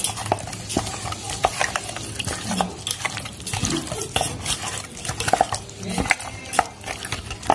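Swarna punti fish being mixed with oil in a pan for a bati chorchori, with a steady run of soft stirring and scraping, light clinks of utensil on metal, and a faint sizzle, all close and without talk.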